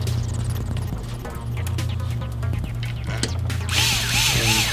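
Screwdriver driving screws into a liquid-cooled gaming PC case during an AMD Ryzen 9 3900X build, close low buzzing with ratcheting clicks, ending in a brief higher whir.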